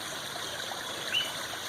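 A small backyard waterfall flows steadily at the edge of a garden pond, giving a soft continuous trickle and splash, fairly quiet and close, with a brief bird chirp in the middle.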